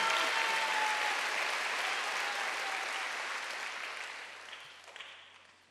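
A church congregation at a Wednesday worship service breaks into applause, a thick, even roar of clapping that starts loud and slowly fades away over several seconds.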